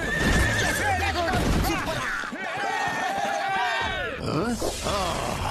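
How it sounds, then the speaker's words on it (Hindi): A cartoon horse in Motu Patlu lets out a long, loud whinny that rises and falls over several seconds, followed by a shorter second neigh, with other cartoon sound effects and clip-clop mixed in. "चल मेरे घोड़े।"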